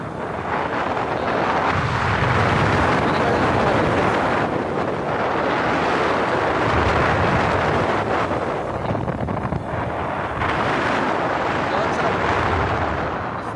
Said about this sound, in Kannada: ಗಾಳಿ ಬಂದುಂಟು ಚೂರು ಚೂರಾಗಿ